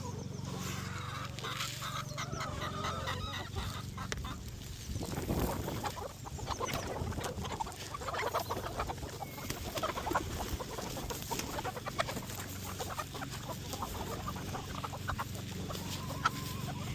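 Hens cluck and chatter continuously while feeding on corn, a busy, dense flock sound close by with scattered pecking noises throughout.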